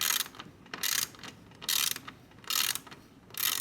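A socket wrench ratchet clicks in rapid buzzing bursts while a bolt is tightened, four or five close strokes with short pauses between, loud and near, no voices.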